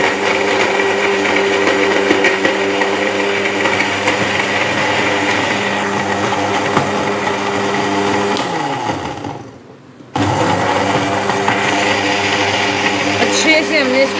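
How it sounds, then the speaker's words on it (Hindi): An electric blender whirs steadily as it blends hot water with lemon, a loud continuous motor drone that dips briefly when switched off, then starts again. "अब हम इसको जल्दी से करेंगे ब्लेंड"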